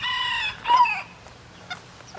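A stocky young farm rooster lets out a single short, strained crow up close, followed by quieter clucking sounds in a calm barn setting.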